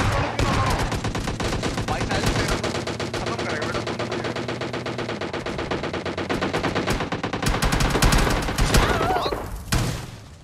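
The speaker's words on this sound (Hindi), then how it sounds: "अब सामने से भी देखो गनशॉट्स की आवाज़ आती है" Automatic weapons fire in the PUBG Lite battle-royale game: rapid, dense bursts of gunshots crackle almost continuously, loud and close, with brief pauses between volleys and occasional talk underneath.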